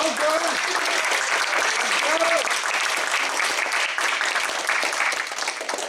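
Applause from the audience at a community guest panel during Whinny City Pony Con 2022 fills the room in a loud, sustained wash of many hands clapping, with a few voices calling out on top of it.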